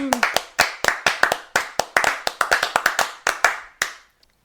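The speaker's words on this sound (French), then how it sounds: "on peut t'applaudir" Hand claps in a talk-show studio, a quick burst of about twenty sharp, separate claps close by, fairly few hands, thinning out and stopping near the end.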